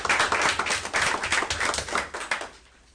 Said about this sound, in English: I think that's clap worthy.